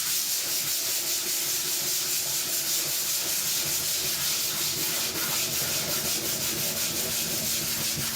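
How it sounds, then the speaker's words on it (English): A sanding block rubs steadily across a dry second coat of wall plaster in a bathroom, giving a continuous close scratchy hiss with gentle back-and-forth strokes and no talking. "second coat of plaster is dry, so we grab our favorite sanding block"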